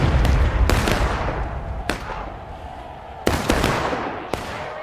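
Booming artillery and gunfire in a Civil War battle video game, several sharp blasts breaking out of a rumbling battlefield background, a pair of loud hits close together near the middle.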